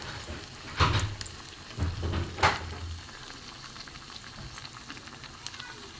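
Fish chops sizzling as they fry in hot oil, a steady crackling hiss with a few louder bursts of spattering early on, continuing evenly throughout.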